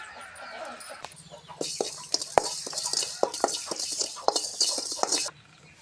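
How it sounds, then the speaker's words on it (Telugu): Seasoning for Andhra-style pachi pulusu fried in a pan, a hissing sizzle with sharp crackles and pops and repeated spoon clinks while being stirred close by. "ఇలాగలా తిప్పుకోవాలండి మాడిపోకుండానే వేపుకోవాలండి"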